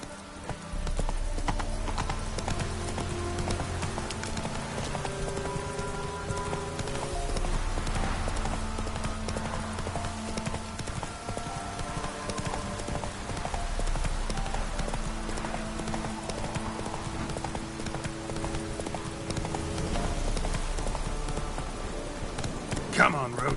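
Roach, Geralt's horse in The Witcher 3, trots along in steady clip-clop hoofbeats that carry the whole way through, with a game music bed underneath and some talk in places.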